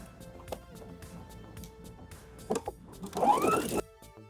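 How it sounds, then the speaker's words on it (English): A sewing machine runs in short bursts while stitching along the facing seam of a skirt being taken in, faint whirring with a louder, longer run toward the end. "So we're going to be sewing from end to end"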